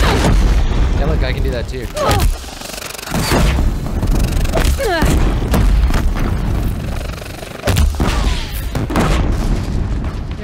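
Heavy weapon fire in the video game Horizon Zero Dawn: loud repeated booms and bursts of blasts, close and dense, with someone talking over the action.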